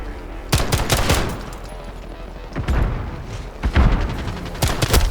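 Gunfire in Call of Duty Modern Warfare, loud sharp shots in irregular bursts and short rapid volleys with booming impacts scattered through a multiplayer match.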